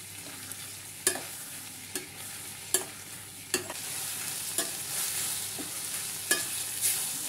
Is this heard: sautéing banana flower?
yes